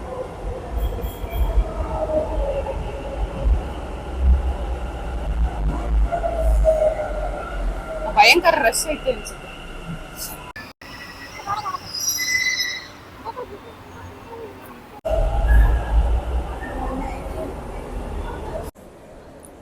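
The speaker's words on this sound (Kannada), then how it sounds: "ಮೆಟ್ರೋದಲ್ಲಿ ಹೋಗ್ತಾ ಇದೀವಿ." A metro train ride with a loud low rumble of the moving carriage, wheel squeal and screeching bursts, brief drops as the train passes through sections, and a person talking over the noise.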